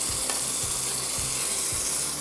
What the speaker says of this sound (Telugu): తాలింపు దాన్ని పెరుగు మన మిశ్రమంలో వేసేసుకుందాం.